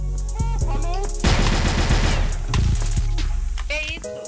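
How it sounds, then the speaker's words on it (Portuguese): Rapid gunfire from the online shooter CrossFire: a dense burst of automatic shots fills the middle of the clip, with more scattered shots before and after, loud and close among other game effects. "Tá dando tiro aqui já."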